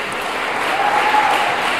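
An audience at a conference of a national games and traditions festival breaks into steady, moderately loud applause, an even wash of clapping that swells slightly toward the end.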